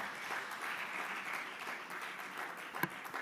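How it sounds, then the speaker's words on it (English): Audience applause at a live Forbes India W-Power awards event celebrating self-made women, a faint, even wash of clapping from a distant crowd, steady throughout with one sharper clap near the end. "they deserve a round of applause for sure."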